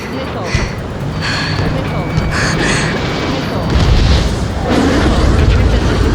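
A missile explodes in the Ace Combat 7 air-combat game, with a loud, sustained booming rumble that swells into a heavier roar during the second half.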